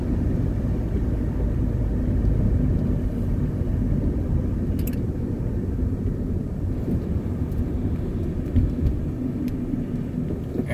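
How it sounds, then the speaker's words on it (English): A car rolls along and brakes to a stop after brake work on its calipers, giving a steady close rumble of road and cabin noise that continues evenly with no talk. "I'm gonna wait till I come up to a stop and see how they sound"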